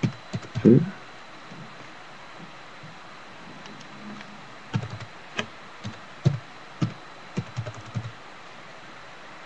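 Sparse keyboard taps while a word is typed into a Word help search: scattered, irregular keystrokes, mostly in the second half, fairly close but soft against a quiet room.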